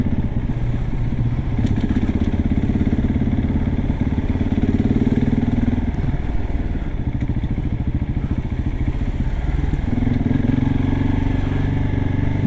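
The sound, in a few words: KTM 690 SMC R 2022 motorcycle riding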